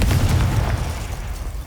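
A Confringo spell in Hogwarts Legacy bursts as a loud, deep, booming explosion that rumbles through the whole short moment with no pause.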